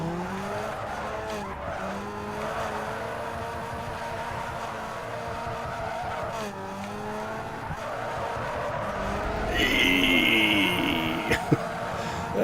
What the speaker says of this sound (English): Oh, nabbed the drift, but kind of hoping it would go a bit longer.